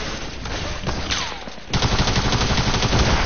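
Rapid bursts of video game gunfire, at first scattered shots and then a dense, loud fusillade from about midway on, with overlapping rounds close up and no talk over them.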